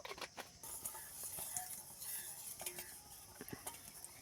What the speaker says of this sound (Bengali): বাটিটার চারধারে এইভাবে মাখিয়ে দিতে হবে তেল।